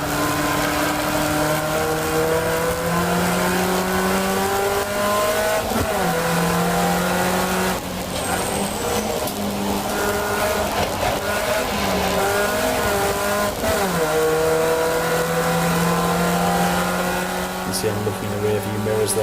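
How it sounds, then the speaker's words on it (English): Race car on track at the Brands Hatch GP circuit during a trackday, loud onboard engine drone rising and dropping through gear changes and braking, with someone talking over it. "we're now racing with him on track and having a lot of fun doing so"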